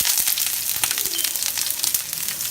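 Onions and mushrooms sizzle in oil on a hibachi griddle, a loud, dense, steady crackle with brief scraping touches, close up and without speech.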